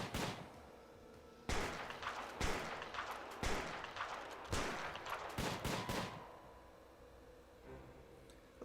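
Rapid bursts of gunfire in the Prison Architect video game, several volleys crackling close together over about six seconds before fading into quieter background noise.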